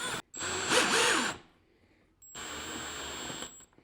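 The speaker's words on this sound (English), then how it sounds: "just go ahead and drill her in" A power drill whirs in two bursts separated by a short pause, close and fairly loud, with a steady high motor whine as screws are driven in to mount a light fixture.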